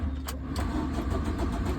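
A car engine starts and runs during a driving lesson in Changanassery, Kerala, giving a steady mid-level engine rumble with a brief crank at the start.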